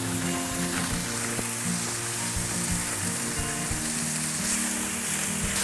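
Texas Wagyu skirt steak sears in a hot pan, giving a steady, loud, continuous sizzle with a low hum underneath and no talking throughout.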